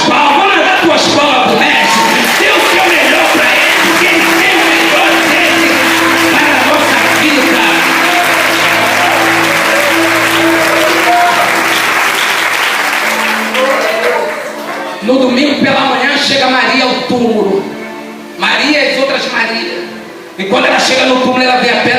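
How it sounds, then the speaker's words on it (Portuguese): A church congregation at a Friday evening service claps and cheers loudly throughout, a dense sustained wave of applause mixed with shouts, with a voice speaking over it. "Vamos dar tuas palmas pro mestre."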